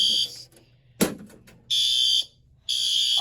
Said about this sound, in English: the light has gone solid, and our alarm is now going off.